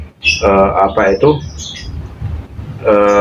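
A cucak ijo songbird sings loud, harmonically rich phrases close by, including sunbird song imitation, broken by a short pause of quieter background, then another strong sustained phrase begins.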